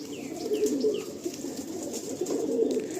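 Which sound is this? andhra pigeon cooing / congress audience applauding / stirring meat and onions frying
andhra pigeon cooing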